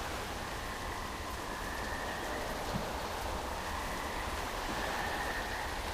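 Steady rain hiss in the VRChat game FISH!, a broadband wash of falling rain at an even level throughout, with no talk over it.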